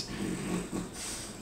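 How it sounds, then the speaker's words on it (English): A dog snores while asleep on a couch, a low rumbling breath repeating in slow rounds, steady and moderately close with no talking. "my dog sleeping on the couch as always, so if you hear some snoring"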